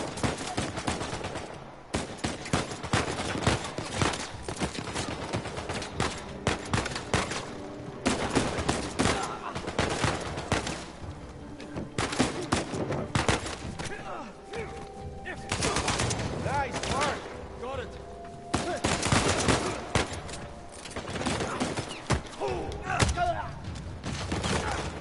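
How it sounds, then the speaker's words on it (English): Turret fire rattles in the video game Uncharted 4 as rapid machine-gun bursts and fusillades crackle almost continuously, with a voice talking over parts of it. "Pretty sure they've got a turret on here."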